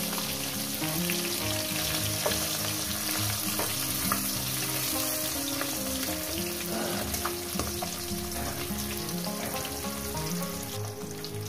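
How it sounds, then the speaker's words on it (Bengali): Small young rohu-type fish fry in hot oil with okra nearby, giving a steady, close sizzle with crackling pops and occasional stirring scrapes, and no voices. "মাছগুলো আমার ভাজা হয়ে গেছে, উঠিয়ে নেব।"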